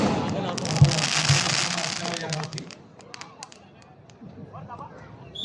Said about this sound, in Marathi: फटाक्यांची असणाऱ्या आतशबाजी या ठिकाणी